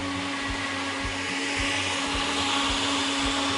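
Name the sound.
blender lightly mixing kefir sauce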